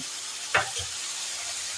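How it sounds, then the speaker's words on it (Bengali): Ginger paste hitting a pan of frying onion and garlic over a medium gas flame, a soft steady sizzle with one brief louder burst and a faint clink as it goes in. "এবার আমি এই চামচের 1/2 চামচ থেকে একটু বেশি আদা পেস্ট দিয়ে দিলাম।"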